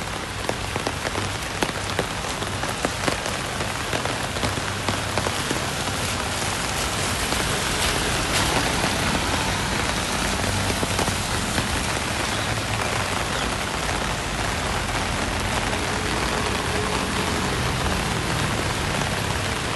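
Heavy rain pours steadily on surfaces during a walk from Boat Lagoon to Royal Phuket Marina in Phuket, Thailand, a dense unbroken hiss of drops that stays loud and even throughout.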